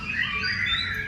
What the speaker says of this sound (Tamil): இது தொட்டா அதே மாதிரி இந்த பறவை எப்படி கத்தணும் அந்த சவுண்ட் வரும்.